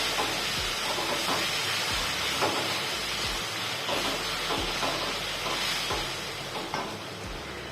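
Paneer masala paste frying in a pan, with a steady, close hissing sizzle broken at regular intervals by the scrape of stirring, and no voices.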